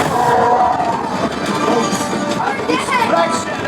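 Ride soundtrack aboard the Millennium Falcon Smugglers Run attraction at Hollywood Studios, with a loud, dense rumble of a passing train mixed under constant effects and music, with shouted dialogue on top.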